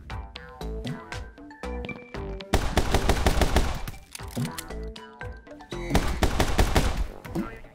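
Dual pistols fire in the action game My Friend Pedro: rapid, loud, dense bursts of gunshots that swell into near-continuous volleys over a steady musical backdrop.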